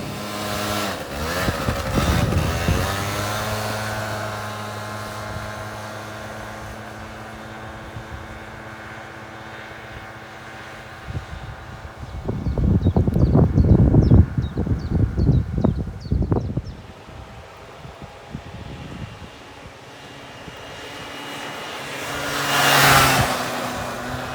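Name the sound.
MBK Nitro scooter with Ovetto engine being ridden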